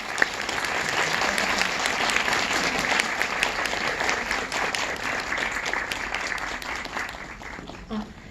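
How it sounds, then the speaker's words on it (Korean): An audience at a Busan International Film Festival guest visit screening applauds the film director, a steady, dense wash of clapping that holds for several seconds before thinning out at the end. "격려의 박수 보내드리며 정리하겠습니다"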